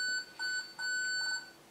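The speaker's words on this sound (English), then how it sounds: "That's the alarm going off." An RGB LED clock's alarm sounds in a quick series of bright electronic beeps, repeating in short even bursts with brief gaps, fairly close and alone.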